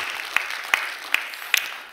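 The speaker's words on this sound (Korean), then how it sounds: "여러분 박수 한번 해주셔요." A small church congregation at an early-morning service claps in a few sharp, evenly spaced strokes, roughly five claps in two seconds, fairly close and without talk.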